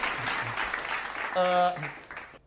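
Brief scattered clapping mixed with voices speaking and a short sung or hummed tone, fairly faint and close.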